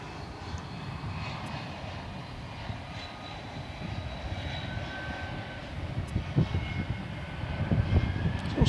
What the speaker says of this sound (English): The A300's coming in on top here.